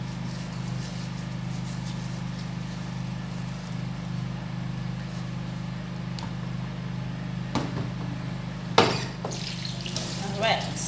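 Tap water runs steadily for rinsing with salt, a constant wash under a low hum, with a few brief clinks and splashes near the end.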